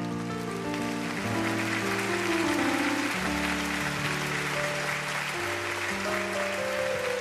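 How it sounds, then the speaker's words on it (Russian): Concert audience applauding steadily for the whole stretch, a dense wash of many hands clapping in a live hall in Israel, with sustained tones from music or a held chord beneath. "Аплодисменты!"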